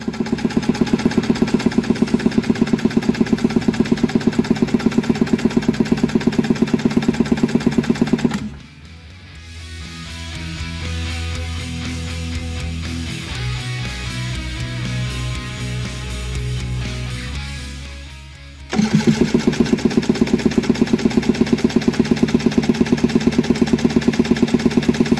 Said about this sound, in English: Hold the throttle wide open and crank the engine over.